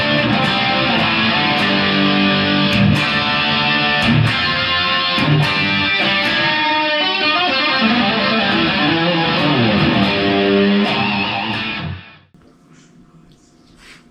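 A Volgoa GTWT-05 headless electric guitar played through its bridge pickup with heavy distortion, a dense continuous run of chords and picked notes with sharp attacks, loud and upfront, stopping abruptly near the end.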